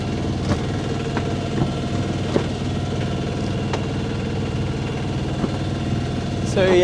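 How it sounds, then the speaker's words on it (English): Inboard engine on a Contessa 26 sailboat running at a steady idle-like chug, a continuous low mechanical thrum with faint knocks, and a brief voice near the end. "So yeah, we can hear the engine running"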